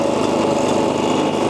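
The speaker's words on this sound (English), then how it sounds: "I'm running this elevator off old John Deere lawnmower I got" An old John Deere lawn mower engine, powering an elevator, chugs steadily at a constant speed, close and fairly loud, with no other sounds.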